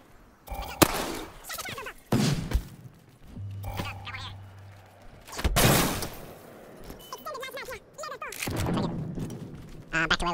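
Bursts of video game gunfire ring out in short irregular volleys as players shoot at a cargo bot, with team voice chat talking over and between the shots.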